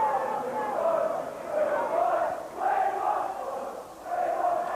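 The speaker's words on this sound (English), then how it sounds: "Crowd saying we want 5." Stoke City supporters on the terraces at a 1989 league match against Swindon Town, chanting together in rising and falling waves of massed voices, a steady roar from the crowd with no clear individual words.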